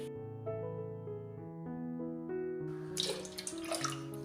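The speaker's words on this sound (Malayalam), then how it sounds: "ഇപ്പം നമ്മുടെ പാലൊഴിച്ച് കൊടുത്തു." Full-fat milk is poured into a mixing bowl for homemade chocolate ice cream, a soft watery splashing that rises in the second half over steady background music.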